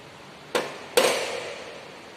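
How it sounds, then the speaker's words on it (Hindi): A wrench loosens the fourth nut on a lathe tool post, giving two sharp metallic clicks about half a second apart, close and fairly loud, each fading quickly into quiet. "ये चौथा नट हम लोग लूज कर रहे हैं।"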